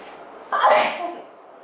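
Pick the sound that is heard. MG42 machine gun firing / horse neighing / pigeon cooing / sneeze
sneeze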